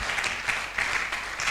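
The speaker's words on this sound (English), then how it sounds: "Clap for him." A brief burst of audience applause fills an orientation ceremony at a training institute, with quick, dense clapping throughout the short moment.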